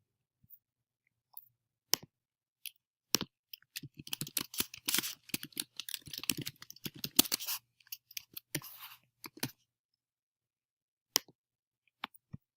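Sharp, isolated clicks on a computer keyboard during a login, then a dense run of quick typing strokes in the middle before the pace slows back to scattered single taps.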